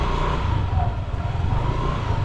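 A motorcycle engine idles at a steady low rumble close by for a couple of seconds, with a faint voice under it.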